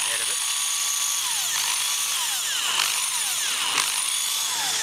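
Cordless drill adapted to run from a transformer instead of its battery, whining steadily at close range with small rising and falling speed sweeps and no pauses.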